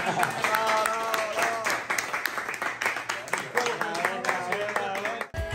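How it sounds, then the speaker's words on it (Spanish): A crowd applauds at the close of a Ducati Ride Experience off-road riding course in Colombia, clapping steadily for several seconds while voices call out and talk over it, ending abruptly. "Un último aplauso, porque Gorilón quiere irse por off"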